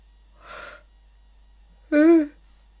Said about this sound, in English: it's that time of the evening where I yawn my head off for about half an hour